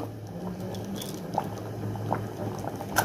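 A pot of vegetable khichuri simmers on the stove with a steady low bubbling hiss. Soft pops and gurgles break through now and then, close and fairly quiet, with no voices over it.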